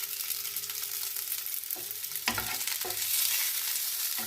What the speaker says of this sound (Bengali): দেখুন আমার পেঁয়াজগুলো হালকা ভাজা হয়ে গেছে, তাতে বেগুনগুলো অ্যাড করে দিয়েছি